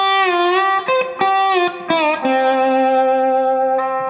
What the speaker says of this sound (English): very cool kind of country lick